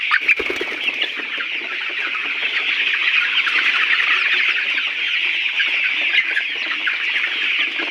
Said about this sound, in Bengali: যখনই দেখবেন আপনার মুরগি খাবার দেওয়ার সময় খাওয়ার জন্য এত ব্যাকুল